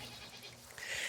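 Goats bleat at a snowy cabin homestead, one or two faint, short calls at a distance over quiet wind-like background noise.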